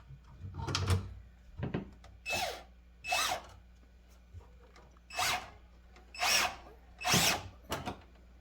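A power drill whirs in short bursts, about seven separate runs of a second or so each, with quiet gaps between them, pre-drilling holes in a truck tub to mount a fridge slider.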